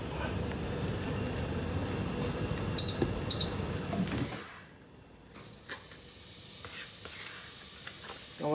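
Vegetables sizzle in hot olive oil in a saucepan, a steady close frying hiss with a few light clinks. After about four seconds it drops to near quiet, with faint scattered taps.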